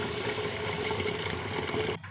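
Water runs steadily while rice is rinsed in a home kitchen, a constant close rushing flow that cuts off abruptly near the end.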